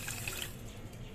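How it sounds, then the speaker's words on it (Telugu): Water poured from a cup onto sugar in a pan to make syrup for badusha sweets, a steady splashing run of liquid that stays even and fairly soft from start to finish. "మనం వాటర్ వేసుకుంటున్నామండి."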